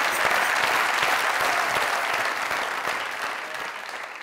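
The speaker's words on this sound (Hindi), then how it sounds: "जोरदार ताली" Loud, sustained applause from a large studio audience at a comedy talk show, dense and continuous, tapering slightly toward the end.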